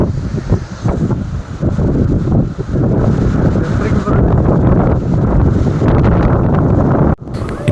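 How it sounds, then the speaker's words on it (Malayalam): Strong wind buffeting the microphone at a reverse waterfall, a loud continuous roaring rush that gusts throughout and drops out abruptly near the end. "ഇപ്പം അത്യാവശ്യം നല്ല കാറ്റുണ്ട്"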